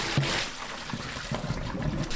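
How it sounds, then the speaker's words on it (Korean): Blanched chives being rinsed in cold water in a kitchen, heard as a soft, steady splashing and trickling at close range with gentle sloshing throughout. "찬물에 두세 번 헹궈주세요."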